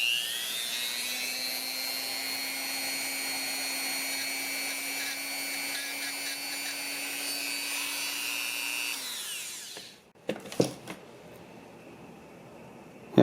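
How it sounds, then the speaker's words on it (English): A Dremel rotary tool fitted with a grinding stone lightly deburrs the face of a Glock trigger connector. It holds a steady high whine for about nine seconds, then winds down, and a few brief clicks and handling noises follow. "now I just changed over to a stone on the Dremel, and I'm just going to lightly touch it just to remove any burrs from this face of the connector"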